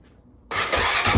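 A race bike engine built for the Glen Helen 24-hour race catches with a sudden sharp burst after a brief quiet moment, then roars loudly and roughly as it settles into running up close.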